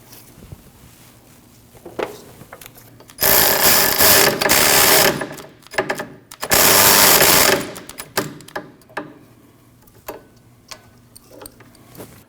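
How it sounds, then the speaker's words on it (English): A power ratchet or impact tool tightens a 12mm bolt on the rear backing plate of a 2003-2008 Subaru Forester, loud sustained whirring in two long runs with scattered clicks and taps around them, close and without talk. "Install your 12mm bolt and tighten it."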